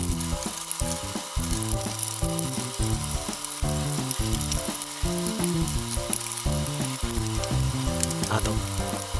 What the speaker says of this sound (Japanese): では、目玉焼きを焼いてみます。